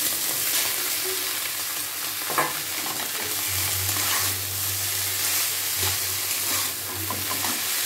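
Chow mein noodles fry and get stirred in a nonstick wok. A steady sizzle runs throughout, with a lower burbling hiss midway and scraping stir strokes over it. No one speaks.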